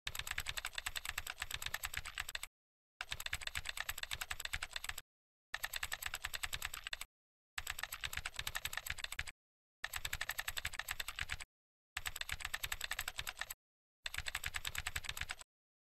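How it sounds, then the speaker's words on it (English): Rapid clattering keystrokes on a computer keyboard come in seven bursts of about two seconds each, separated by short silent gaps, close and clear with no voices. "We simply click on its icon and start typing."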